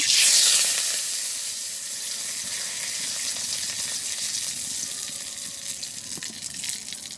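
Oil sizzles steadily in a hot pan as whole cumin seeds and bay leaves go in, a bright hiss that flares loud at first and then settles into a continuous crackle, with no voices.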